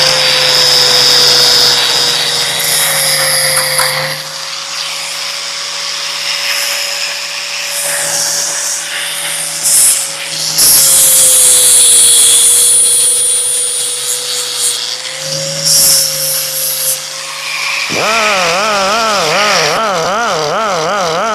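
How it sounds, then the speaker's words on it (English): A power grinder whines steadily while cutting away the oil drain plug boss on a Briggs and Stratton engine sump, its tone holding steady with brief dips before shifting into a wavering, warbling pitch near the end. "we'll take this thing and grind it away"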